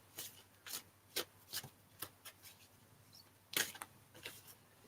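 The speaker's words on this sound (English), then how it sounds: "I'm shuffling the cards, Cat." Tarot cards are shuffled in quiet bursts, a series of short, soft riffling and rubbing strokes at uneven intervals, close and alone with no talk.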